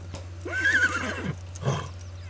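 A horse in The Sims 3 gives one clear, close whinny that rises and trembles, then a short snort follows, with a low steady hum underneath.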